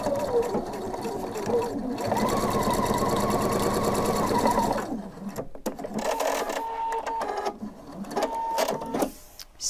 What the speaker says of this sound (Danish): Og så syr jeg ud til kanten her.